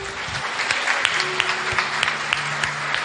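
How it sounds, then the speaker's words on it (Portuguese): A church congregation applauds in a steady, dense wash of clapping that carries through the whole stretch, with a few louder individual claps standing out and faint voices beneath. "Você pode aplaudir a Jesus."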